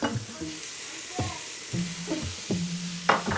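Food stirred in a hot pan over medium-high heat on a home stove, with a steady sizzle broken by several scraping stirs and clatters close by.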